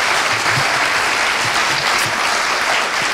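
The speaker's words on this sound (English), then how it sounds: "One more round of applause for that." Audience applause at a college concert choir spring concert, a dense continuous roar of many hands clapping, steady and loud from start to finish.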